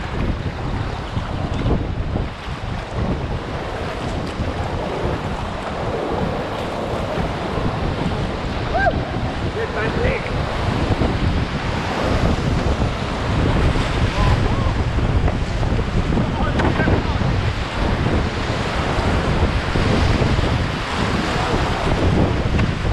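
Rushing water of the Sittaränni rapids on a Finnish creek roars as a loud, steady broadband wash for the whole stretch, with gusty wind buffeting the microphone.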